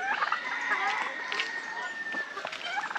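Turkeys on a Jamaican animal farm gobble in a run of warbling calls across the whole stretch, mid-distance, with a person talking over them.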